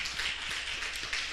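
Church congregation at a Wednesday worship service clapping for the Lord, a steady, fairly faint patter of many hands with no talking over it.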